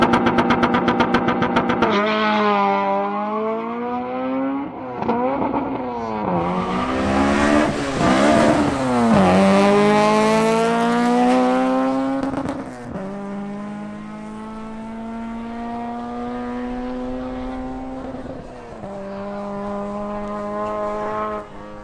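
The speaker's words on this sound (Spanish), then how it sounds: "El siguiente en hacer otra pasada es el BMW M240i xDrive de Sebastián Sepúlveda." BMW M240i xDrive accelerating hard down a drag strip, engine climbing through several gears with clear shift breaks, loud and close, its roar rising and falling in pitch before settling into a steady high drone.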